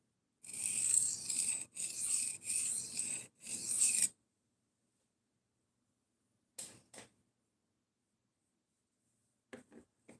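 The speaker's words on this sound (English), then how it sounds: "And just sharpening at a normal pace." Knife blade drawn across a sharpening stone at a normal pace: four rasping strokes in quick succession, close and clear, then silence broken by a few faint scrapes.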